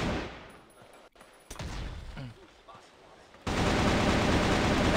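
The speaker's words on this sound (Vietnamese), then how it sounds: "Đấu súng căng thẳng quá, dữ dội quá." Bursts of gunfire from a CrossFire esports match shootout, sharp and dense, broken by a quieter stretch with a commentator talking, then a sustained loud volley to the end.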